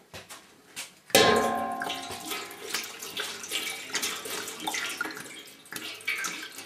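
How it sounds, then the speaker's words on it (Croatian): Two litres of water pour into a large cooking pot on a stove, a sudden splashing gush that settles into a steady, rushing stream with small clinks, close and alone. "Sipamo 2 litra vode."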